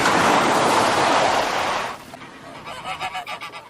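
Chicken being caught by a cook outdoors, squawking in loud honking, goose-like cries that fill the first two seconds, then fade into a quieter stretch with short fluttering calls.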